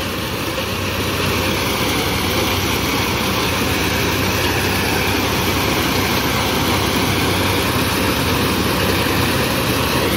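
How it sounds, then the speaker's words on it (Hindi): A corn thresher driven by a tractor through a belt pulley, separating maize kernels from the cobs into a trolley, gives off a steady, loud, dense mechanical roar that holds unchanged from start to finish with no talk. "आ लगी है मक्की वाली थ्रैशर"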